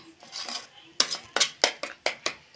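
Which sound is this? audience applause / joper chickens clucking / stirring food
stirring food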